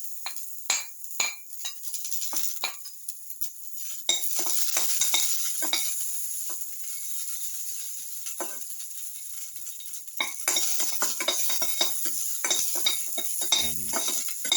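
Yellow raisins sizzle steadily in a hot pan while a utensil stirs them, with scraping strokes and occasional light clinks against the metal throughout.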